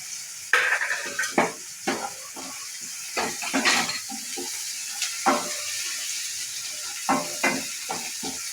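Ginger garlic paste frying with reddened onions in a pan for a soya chunk gravy, with a steady sizzle under repeated stirring scrapes and clinks.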